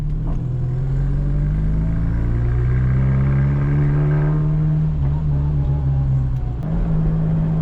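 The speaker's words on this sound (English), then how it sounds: "Can't hear anything above that exhaust" A loud, rumbling exhaust on a nearly 50-year-old car drones steadily while driving, its pitch rising and falling slightly with the engine, close and continuous.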